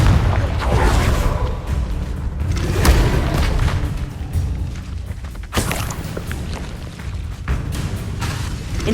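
A Confringo spell blast in the Hogwarts Legacy video game: loud, deep booming bursts that thump and roll repeatedly over a rumbling, chaotic battle backdrop.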